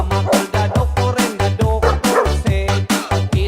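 A dog barks in a rapid series of loud, close, repeated barks, some yelping, with no voices.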